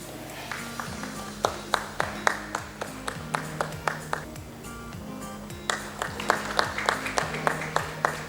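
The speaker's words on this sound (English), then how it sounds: "A round of applause for our moderator, Arunji." Scattered audience applause at an office design summit conference in Delhi, individual claps distinct and sparse over a background of sustained electronic tones or music.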